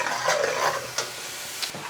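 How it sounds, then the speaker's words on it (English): Sauce sizzling in a hot pan during a Chinese stir-fry, a steady crackling hiss broken by a couple of sharp clinks or tosses, close and fairly loud with no talk. "get it sizzling."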